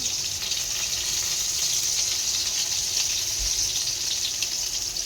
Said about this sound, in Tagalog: Prito si Nicole og isda nga gagmay.